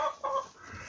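Silkie chickens, one of them a broody hen, give a couple of short, close clucks at the start, then fainter soft murmuring follows.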